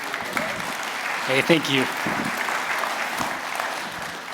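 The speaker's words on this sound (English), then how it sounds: "would you just give him a round of applause?" Warm audience applause welcomes a speaker to the stage at a Christian church gathering, a steady wash of clapping from the room while someone briefly speaks over it near the middle.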